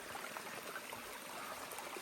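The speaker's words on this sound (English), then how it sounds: "Little waterfall, water, very nice." A small waterfall spills into a shallow stream, producing a soft, steady trickle and babble of running water, faint and continuous with no talking.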